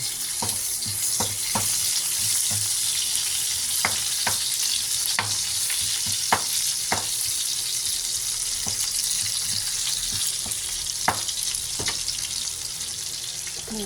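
Garlic and ginger fry in a hot pan for a mung bean topping, a steady close sizzle broken by sharp, irregular clicks of a utensil stirring against the pan.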